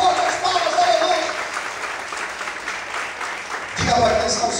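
Worshippers in a church keep up sustained, even applause that swells louder near the end, while voices carry over the clapping.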